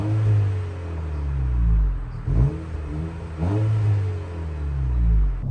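A 2024 Honda Civic Si with a manual gearbox accelerates through the gears, its engine note climbing and dropping with each shift in a repeated rising pattern, heard close from inside the car with no talk.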